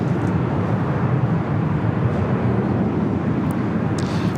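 A Delta Airlines A321 arriving from Atlanta on approach to land at LAX gives a loud, steady jet roar with a broad rumble, heard from fairly close and holding level the whole time.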